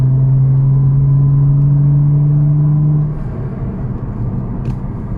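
A 1992 Audi Coupé Quattro V6 engine drones loudly while driving, with a steady low hum that drops off after about three seconds into a softer rumble of road noise.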